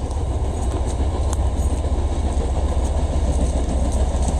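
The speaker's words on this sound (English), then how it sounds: "there's the night train coming on through" Heavy, continuous low rumble of a night train rolling past nearby in the woods, with faint rhythmic clicks over the steady roar.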